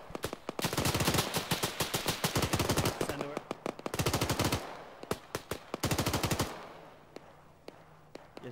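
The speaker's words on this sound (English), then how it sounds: "Watch the tracer, rapid fire." Rapid machine gun fire in Arma 3 rattles out in long, loud bursts of tightly spaced shots, pausing briefly between volleys before a quieter stretch of fainter, scattered shots at the end.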